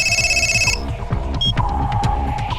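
A telephone rings with a bright trilling electronic bell for under a second, then cuts off, leaving a low throbbing hum with faint clicks and brief tones.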